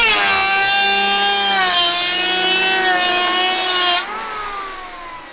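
Planer cutting wood, a cordless Makita 18V against a corded Bosch: a steady high-pitched motor whine with a harmonic tone that dips slightly mid-cut, then drops off abruptly as the blade leaves the board.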